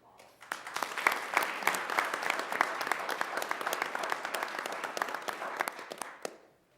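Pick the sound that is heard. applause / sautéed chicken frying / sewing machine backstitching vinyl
applause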